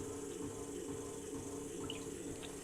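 Soft, steady trickle of water over wet clay on a spinning pottery wheel, faint and continuous under a low motor-like hum.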